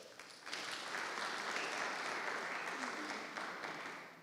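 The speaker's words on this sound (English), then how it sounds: "Can we give them a round of applause?" Sustained round of applause from the audience at a Human Rights Day panel discussion, swelling in after a short pause and staying broad and even before tapering slightly at the end.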